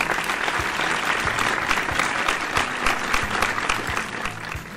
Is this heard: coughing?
no